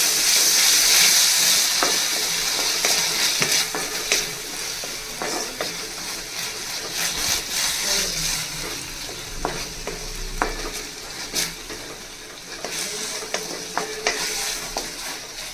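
Mushroom chilli stir-fried with dark soy sauce and red chili sauce sizzles loudly in a hot pan, with repeated scraping strokes of a spatula and a steady hiss throughout.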